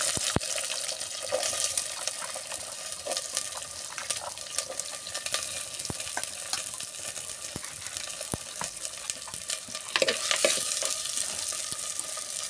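Small onions sizzle steadily in hot oil in a pan as they fry for a fish curry, with soft stirring scrapes and a few sharp clicks throughout. The frying sounds near and moderately quiet, and no voices are heard.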